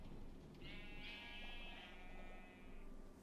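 A sheep bleats in a video game, one long wavering bleat over a steady hum of background noise, fairly close and with no speech.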